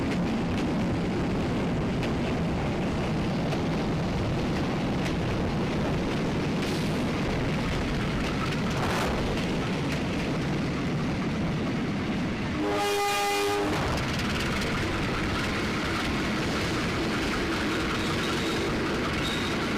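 A passenger train on a 2013 trial run between Padalarang, Cianjur and Sukabumi rumbles steadily as it enters the Lampegan tunnel, with a loud continuous roar, a brief horn-like tonal burst midway, and no talking.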